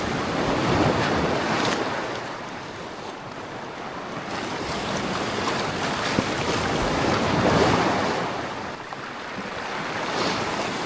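Waves of an icy winter sea wash and break on the shore in loud, continuous surges, with wind buffeting the microphone throughout and no voices.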